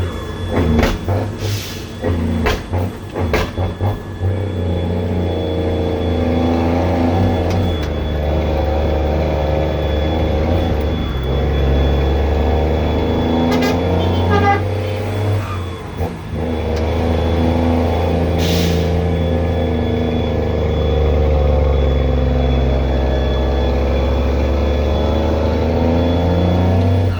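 A Foden 12-wheeler dump truck labours uphill, its diesel engine droning loud and near with shifting revs and a few hisses and clunks early on.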